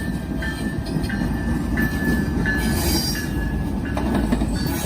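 A KCS freight train rolls past close by as a steady, loud rumble of wheels and rail noise that fills the whole stretch, with faint squealing tones over it and no talk.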